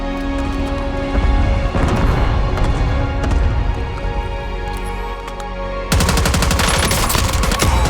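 Dense, sustained automatic gunfire in the battle royale game Warzone, with rapid bursts and heavy shots layered over the game's sound throughout, becoming louder and sharper near the end.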